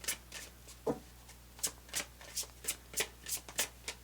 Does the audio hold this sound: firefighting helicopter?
no